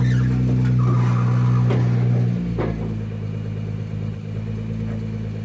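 A Nissan GT-R with a broken tie rod drifts at a steep angle, its engine droning loudly as tires squeal, then revs fall away and the car settles into a quieter idle.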